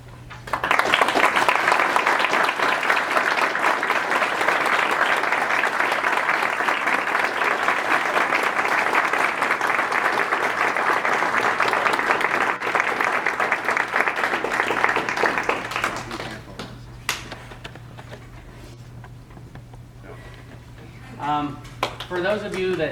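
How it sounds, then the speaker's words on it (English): A crowd applauds at a high school wrestling team's end-of-season awards. The clapping is loud and sustained for about sixteen seconds, then fades, and a voice speaks over the quieter room at the end. "I'll give you a second to clap here"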